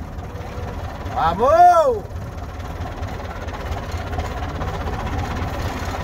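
A farm tractor engine runs with a steady low rumble throughout, while a person briefly shouts over it near the start.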